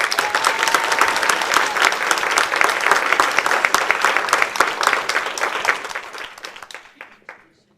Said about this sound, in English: Please join me in giving a round of applause to Mrs. Jen Magnotta